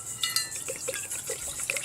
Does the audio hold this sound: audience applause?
no